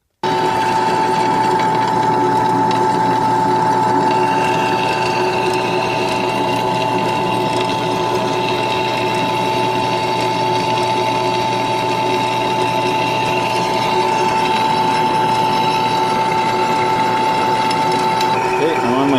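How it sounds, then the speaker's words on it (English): Drill press boring holes in metal for a transmission cooling line repair, a steady continuous whine with a constant pitch running throughout, with a voice talking over it. "now I'll go to the drill press and I'll drill my 2 932 holes"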